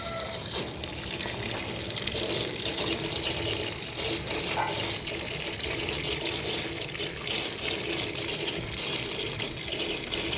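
Tap water gushes steadily into a tub where clothes are put to soak for washing, a close, continuous, unbroken rush of filling water with no voices.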